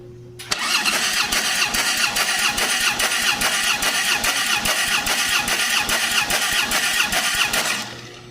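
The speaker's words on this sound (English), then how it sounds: "So crank her wide open. I'll run position and crank it." An engine cranking over steadily during a compression test with the throttle held wide open, a fast even rhythmic churning that runs close and loud for about seven seconds before stopping.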